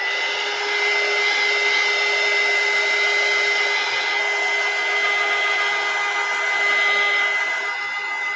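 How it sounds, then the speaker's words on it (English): A heat gun runs continuously as a loud, close, steady whoosh of blown air with a constant whine, holding an even level with no other sound. "I'm gonna turn on my heat gun real quick."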